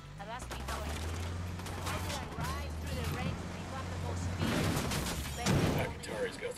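Gunfire in the video game Ghost Recon Wildlands, with scattered volleys of shots over a steady low rumble and voices talking throughout.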